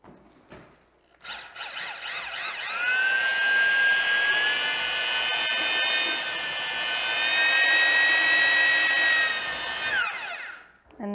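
An electric drill fitted with a mixing paddle churns drywall compound in a bucket, a loud whining spin lasting about eight seconds that rises and wavers slightly in pitch before winding down.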